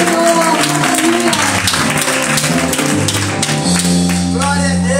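A church congregation claps to the Lord during worship, with quick clapping blended under loud sustained music and singing.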